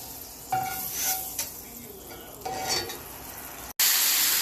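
Thin lamb chops brown in butter in a hot pan, giving a close steady sizzle with brief swells as the meat is moved, and a short break before the frying noise returns louder.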